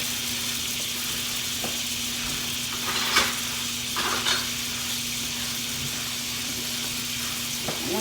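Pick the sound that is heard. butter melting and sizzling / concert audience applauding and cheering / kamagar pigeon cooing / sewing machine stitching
butter melting and sizzling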